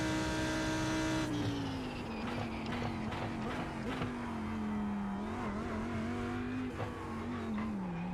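A GT3 race car in the iRacing sim revs hard under heavy throttle, a steady loud engine drone whose pitch wavers and dips as power is applied between corners, with faint tire noise beneath.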